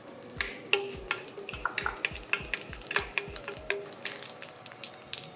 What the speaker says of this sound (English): now it's just started sautéing, adding the fennel seeds